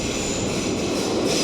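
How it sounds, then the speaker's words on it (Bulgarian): A Sofia metro train rolling into a station, its steady broadband rumble of wheels on rail holding loud and continuous, with faint squeal and clatter and no voices. "Айде да отидем да се возим на метро."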